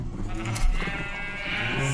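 Sheep bleating in Minecraft after being sheared, a short run of close bleats alone over a steady game background.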